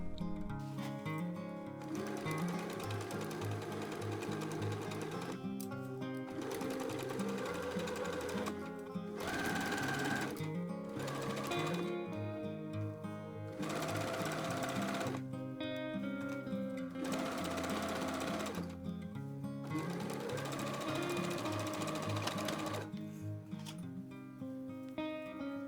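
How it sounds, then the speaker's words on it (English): Sewing machine runs along the top edge of a drawstring dress, humming in long steady bursts of rapid stitching broken by brief stops, near and clear with no talking. "We need to sew this on the the top edge in place."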